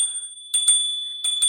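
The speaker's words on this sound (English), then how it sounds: "really nice quality bell right there" A Roinside electric scooter's handlebar bell is rung twice, each ring a quick double ding with a bright ringing tone, heard close and clear with no talk.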